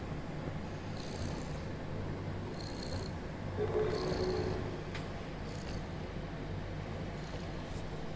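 Cat purring in the video game Stray, a soft, steady, close purr rolling on without break, with a few faint higher chirps and a brief brighter swell partway through.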